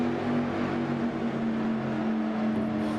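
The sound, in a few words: race cars on track in iRacing sim racing video game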